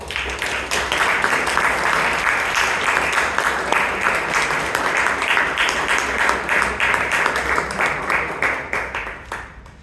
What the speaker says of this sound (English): let us all give our Sergeant at Arms, Toastmaster Imtiaz, a big round of applause.